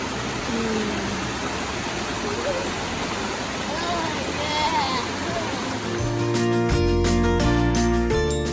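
A small creek on a hot summer hiking trail to Della Falls rushes in a steady, loud broadband wash, close by, with faint voices in the background and a loud mechanical rattling at the end.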